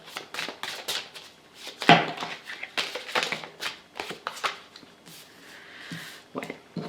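Tarot cards being shuffled by hand, a quick series of soft papery riffles and taps, close and fairly quiet, with no talking.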